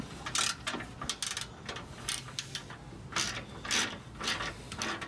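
A ratchet wrench loosens bolts on a Toyota TRD skid plate, with bursts of rapid clicking in short irregular runs, close and fairly quiet with brief pauses between.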